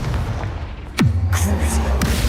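A Confringo blasting spell from Hogwarts Legacy fires with a sharp swoosh and a booming burst, followed by a second fainter hit over steady game background noise.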